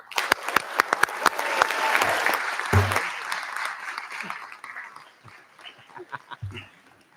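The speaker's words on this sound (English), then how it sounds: "Please join me in a round of applause for Mrs. Kradatis" Applause from the audience at a school board meeting, a steady wash of clapping that swells and then thins out into scattered claps, with voices talking underneath.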